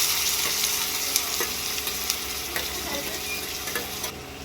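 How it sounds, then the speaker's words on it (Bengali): Chopped onions frying in hot oil in a pan, making a continuous even sizzle with scattered small pops and ticks, close by and without speech. "তেল গরম হয়ে গেছে, পেঁয়াজ ছেড়ে দিচ্ছি"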